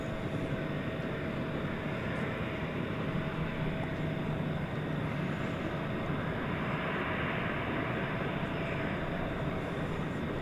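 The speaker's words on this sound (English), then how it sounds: "There's that Viva Aerobus A320, flight 583, to the aforementioned Querétaro." A Viva Aerobus A320 airliner at DFW Airport makes a steady, loud, broadband jet roar that holds unbroken for ten seconds, heard from a distance with no voices.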